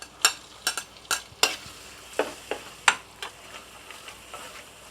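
Ground garlic stirred in hot oil for a kam heong sauce gives off soft sizzling with sharp clicks and scrapes of a utensil against the pan, irregular and close.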